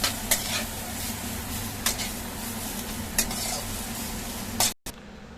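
Chopped onions and coriander leaves fry in a pan with a steady close sizzle, broken by a few sharp scrapes and clinks as they are stirred, with no talk.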